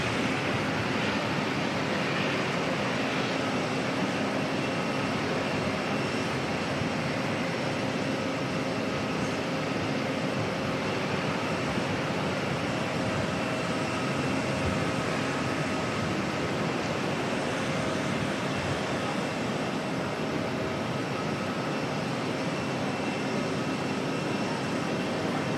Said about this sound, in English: Rarotonga bound A321 just passing through the shot there.